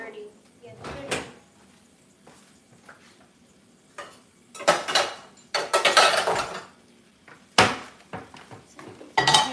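Metal pans clatter and clank in a home kitchen as someone digs through them for a clean one, bursts of scraping and knocking separated by short quiet gaps.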